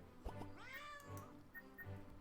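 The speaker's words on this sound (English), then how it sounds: "My cat is meowing at me." A house cat meows nearby in a few drawn-out, rising and falling calls, fairly quiet and clear with no talking over it.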